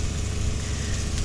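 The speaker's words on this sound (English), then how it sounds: "Noise you can hear in the background is the water pump" Water pump on an off-road camper trailer runs with a continuous low motor hum, steady and droning at the beach campsite, with no speech over it.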